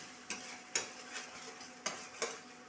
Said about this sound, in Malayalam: ഉള്ളിയും പച്ചമുളകും അരിഞ്ഞത് വരട്ടി അത് കഴിഞ്ഞ് രണ്ട് മുട്ടയും ഒഴിച്ചു ഒഴിച്ച് വരട്ടുകയാണ്